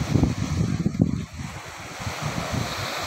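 Sea waves rolling in on a windy evening where many fishing boats are moored, a steady loud wash of surf and gusting wind, heaviest in the first second and then continuing rougher and lower.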